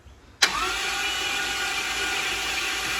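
A Ford Mustang engine cranks briefly, then catches and settles into a steady, loud running drone held at wide-open throttle, close by.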